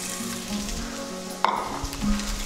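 Diced medium onion sautéing in a pan for tomato bisque, a loud continuous sizzle with a sharp clatter partway through and no talking.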